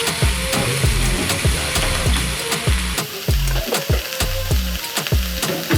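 Chicken breast sizzles steadily in a little hot oil, seasoned with oyster sauce, liquid seasoning, Spanish paprika and black pepper, with repeated scraping stirs of a utensil against the pan over the continuous crackle.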